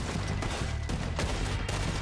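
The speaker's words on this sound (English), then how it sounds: "Oh, he shot his fucking hat off." Gunfire in the Western video game Red Dead Redemption 2, with several sharp shots cracking out over a busy, continuous battle backdrop at steady loudness, spaced unevenly across the moment.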